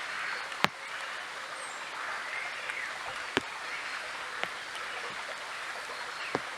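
Rain falls outdoors by the River Nith, a steady soft hiss with scattered sharper drops tapping nearby every second or so.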